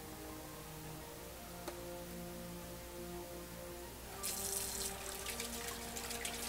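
A tap runs warm water for washing resin model parts, a steady close rush that grows louder and brighter partway through as the flow strengthens.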